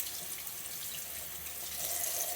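A tap runs steadily into a sink as dyed wool yarn is rinsed of soap and vinegar, a continuous close hiss of splashing water with slight shifts in tone as the flow hits the fibres, no talking.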